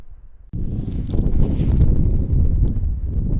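Steady wind rushing and buffeting a microphone on a golf course on a very windy day, a broadband roar that kicks in abruptly after a brief quiet moment and stays loud and continuous.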